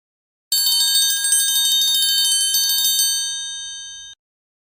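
Triangle struck repeatedly in a fast, even tremolo, a bright metallic ring that sounds close and clear for about two and a half seconds, then decays alone before being damped.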